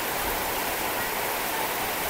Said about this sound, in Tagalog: ang lakas po talaga ng ulan